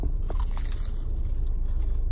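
Crunchy bites into a beef Chalupa taco, eaten close by with loud crackling crunches and chewing over a low, steady hum, with no talking.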